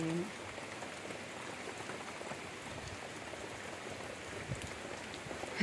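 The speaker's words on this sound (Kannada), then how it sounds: "ಸಖತ್ ಮಳೆ ಅಯ್ಯಪ್ಪ ದೇವ್ರೆ" Heavy rain falls steadily, a close, even patter of drops striking hard surfaces, with a faint voice briefly heard at the start.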